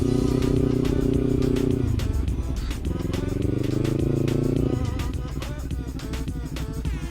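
A Kawasaki Ninja 300 with a slipper clutch out on the road, its engine drone rising, dropping with a gear change and climbing again while a rider talks over it.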